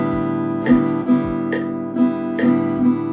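Steady guitar strumming in a repeating pattern against a metronome, strong accented strokes landing at an even, unhurried pulse, played alone with no voice.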